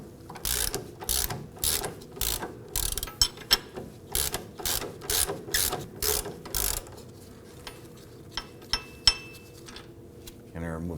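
Rapid ratchet wrench clicking while a 19 mm nut is loosened on a bolt at the strut of a 2005-2009 Subaru Legacy 2.5L, close and loud in repeated bursts of fast clicks, then a few lighter metallic taps.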